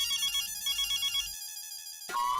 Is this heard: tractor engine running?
no